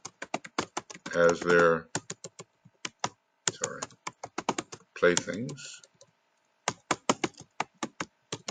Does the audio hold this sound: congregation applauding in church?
no